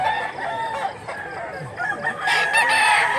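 A bullstag rooster weighing about 1.9 kg crows loudly nearby in Mantalungon, Cebu, a drawn-out call with a rising finish, with some faint clucking and background noise.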